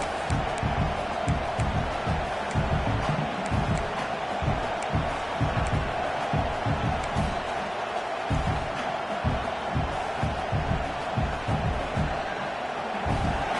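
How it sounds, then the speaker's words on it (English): A stadium crowd in a football video game roars steadily at a distance, a dense, even wash of cheering with faint rhythmic thumps beneath it and no pauses. "And this crowd coming to life here, trying to help the defense get a stop"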